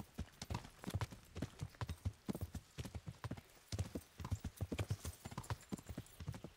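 Horse hooves clop in a steady galloping rhythm from horses in the Kingdom Come video game, loud and close, with a brief whinny possible amid the repeated hoofbeats and no talking.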